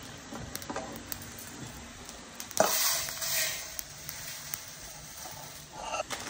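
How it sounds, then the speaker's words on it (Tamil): Roasted flour and grains for sathu maavu fry in a pan, making a faint, continuous sizzle and crackle with a few soft stirring scrapes and clinks, and one brief louder scrape partway through. "இந்த மாதிரி பொரியிற சவுண்டு கேட்டவொன்னே இறக்கிட வேண்டியதான்."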